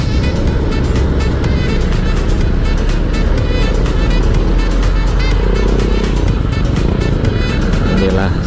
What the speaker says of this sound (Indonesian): Inilah suasana di daerah Ranca Ekek kalau keluar karyawan macet.